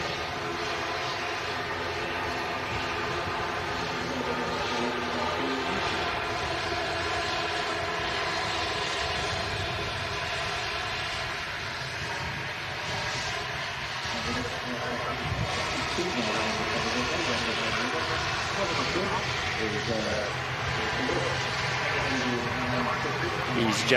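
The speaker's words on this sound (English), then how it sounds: "Logan ATR in from Aberdeen." A Loganair ATR turboprop airliner arriving from Aberdeen at Manchester Airport produces a steady, loud engine drone that holds for the whole stretch, with a voice talking over it.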